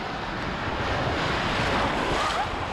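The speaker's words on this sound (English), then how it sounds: "Got some nice waves today." Ocean waves breaking on an Australian beach, a loud, continuous surf roar mixed with wind buffeting the microphone, with no voices.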